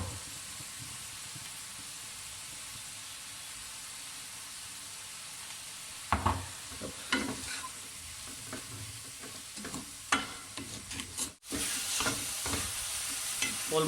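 Chicken and vegetable spring roll filling fried in a pan: a low steady sizzle, then from midway a run of close scraping stirs and clatters against the pan.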